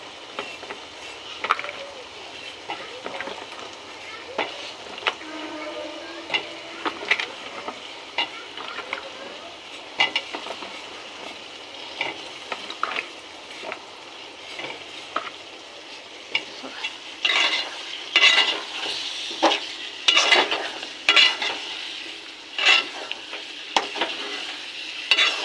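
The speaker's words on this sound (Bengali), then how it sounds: "এখন আলুটাও কষাবো প্রায় 10 মিনিট।" Potatoes stir-fried in a dried spice masala for a Pakistani red chicken dish, a steady low sizzle broken by frequent clattering scrapes of a spatula against the pan, busier toward the end.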